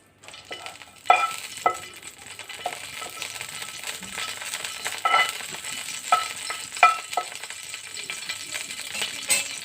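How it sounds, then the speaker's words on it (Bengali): A single bay leaf dropped into hot oil for a rajma curry, giving a steady, fairly quiet sizzle with small crackles and a few sharp pops and clinks, and no voices. "তেল গরম হয়ে গেছে, এখন দিয়ে দিচ্ছি একটি তেজপাতা।"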